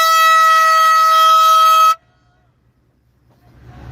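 A cheap handheld air horn gives one long, loud, steady blast lasting about two seconds, then cuts off sharply into near silence, with faint background noise returning at the end.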